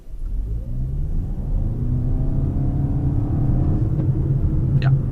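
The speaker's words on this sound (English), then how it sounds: "sport mode, sport gearbox mode, and full throttle for a couple of seconds" A 2017 Toyota RAV4 Hybrid pulls hard at full throttle in sport mode, a steady droning engine rumble with a rising whine building over about five seconds, heard from inside the cabin.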